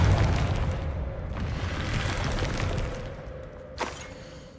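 Spell blasts in Hogwarts Legacy, a broad rumbling boom that fades over several seconds, followed near the end by a sharp brief burst; no talk.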